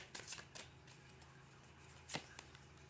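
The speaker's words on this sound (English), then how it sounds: "One more shuffle." Tarot cards riffled and shuffled by hand, a few soft crisp bursts of card flutter at close range, quiet and brief with pauses between.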